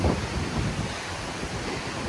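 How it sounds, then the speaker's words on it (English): Surf rolls up onto a rocky Oregon-style beach at Hug Point as the tide comes in, a steady broadband wash with wind buffeting the microphone, no voices. "See, even these waves are coming up here."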